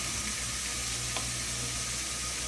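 Butter sizzling on a Power Smokeless Grill alongside grilled chicken, a steady, even hiss and crackle throughout, close and moderately loud, with no talking.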